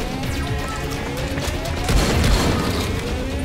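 Rapid shotgun blasts and booming impacts from the video game Dying Light, a dense run of gunfire layered over game ambience and effects at moderate loudness.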